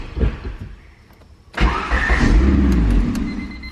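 A turbo Honda Civic engine is cranked and catches, with quiet clicks and short grinding bursts followed by a sudden loud start into a steady, rumbling idle, close to the microphone.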